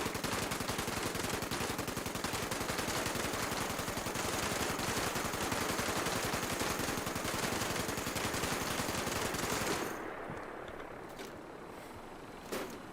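Video game gunfire rattles in dense, sustained bursts of rapid automatic shots, loud and continuous for about ten seconds before cutting off abruptly, leaving a quiet tail with a faint click near the end.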